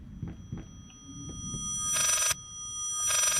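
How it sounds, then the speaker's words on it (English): A backwards-played telephone ring in the horror game Layers of Fear sounds as two bright, abrupt bursts after soft low thuds, standing out clearly over a faint hum with no talking. "That's a phone ringing backwards."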